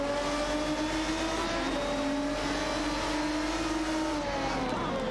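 GT race cars in a video game, a Maserati MC12 GT1 battling an Aston Martin DBR9 and others, give a steady loud engine drone with overlapping sustained tones that rise and fall slightly as the cars run close together.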